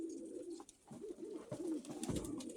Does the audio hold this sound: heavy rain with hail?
no